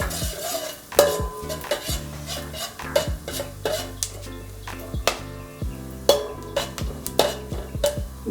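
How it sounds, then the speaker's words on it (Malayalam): A spoon scrapes and clinks around a pan while crushed fennel, cinnamon and cloves fry in coconut oil for an egg stew, sharp irregular knocks over a soft sizzle. "അതിലോട്ട് നമ്മൾ ആ പെരിഞ്ചീരകവും പട്ടയും ഗ്രാമ്പും കൂടെ ചതച്ചത് ഒന്നിട്ട് ഇളക്കും."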